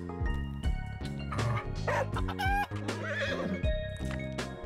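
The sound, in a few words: horse, dog and chicken sounds in the video game Library of Ruina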